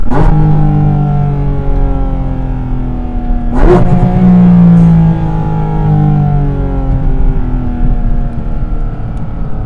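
A Porsche GT4 RS Weissach's flat-six engine revs loud and close, climbing in pitch, cutting off with a sharp crack, then winding up again into a smooth, rising howl.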